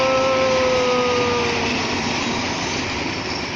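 Diesel locomotive number 4228, a unit back from repairs, rolls past close by as a loud, continuous broadband roar with a steady tonal hum and no pauses.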